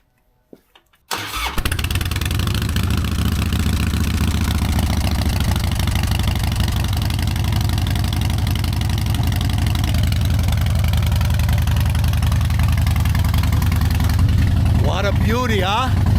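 A Harley-Davidson motorcycle, out on a cold day of around 40 degrees, cranks and fires after a second of quiet, then settles into a loud, steady, lumpy idle that holds, with a brief voice near the end.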